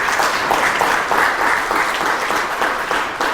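Dense, steady applause from an audience at a company in-house lecture, a broad continuous wash of many hands clapping at even loudness with no voices standing out.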